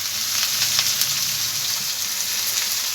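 Vegetables sizzle in hot oil in a pan for a chorchori of boal fish head and vegetables, a steady, close, even frying hiss with faint crackles and no talking.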